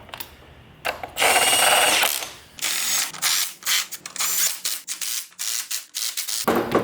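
An 8mm deep socket on an extension, driven by a hand ratchet, works a fastener on a Mazda FC RX7 engine. Close, loud bursts of quick clicking come in several runs separated by short gaps.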